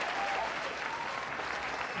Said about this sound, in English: Y'all hear that crowd? You hear the crowd?